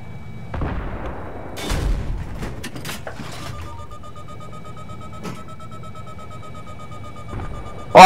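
In the game Battlefield 3, an anti-aircraft gun fires several sharp, booming shots spread over a few seconds, loud and close against a quiet background.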